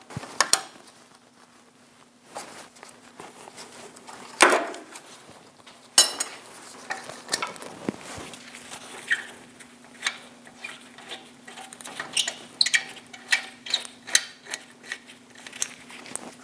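A ratchet on a 17mm socket loosens the brake caliper bolts on a 2003-2025 Chevrolet Express 2500, giving scattered close metallic clicks and clacks with a few sharper cracks as bolts break free, no talk.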